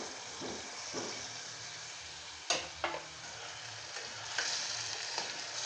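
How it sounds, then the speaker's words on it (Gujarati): Stuffed ivy gourds stirred into sautéed tomato puree with oil in a pan, a steady sizzle with a few sharp scraping knocks of the spoon. "તો ભરીને રાખેલા ટીંડોળા આપણે ટમેટાની સાથે મિક્સ કરી દઈશું."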